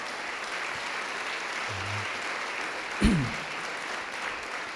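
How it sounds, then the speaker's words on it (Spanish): A church congregation claps for the Lord in steady, dense applause that holds at an even level throughout, with one brief louder knock partway through. "¿No le da un aplauso al Señor, hermano?"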